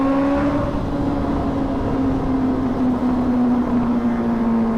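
A Honda CBR650R motorcycle engine hums steadily and loud while riding, its pitch easing slightly downward at a constant cruise, with road and wind noise mixed in.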